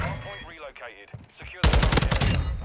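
Rapid automatic gunfire in the video game Call of Duty MW2, a loud burst of many quick shots in the final second, preceded by someone talking over faint game sounds.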